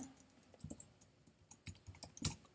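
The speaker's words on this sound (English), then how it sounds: "Why am I typing all these when I can just boop boop?" Computer keyboard typed on in short irregular bursts of quiet, close key clicks while coding, with brief pauses between flurries.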